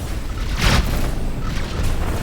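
A missile explosion in a space combat video game, a heavy muffled boom that swells briefly and fades into a dense, roaring wash of noise.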